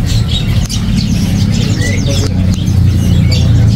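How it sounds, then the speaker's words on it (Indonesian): Many canaries chirp and trill continuously in a dense, busy chorus at a bird market over a constant low hum, with no pauses. "Ready juga untuk burung kenari"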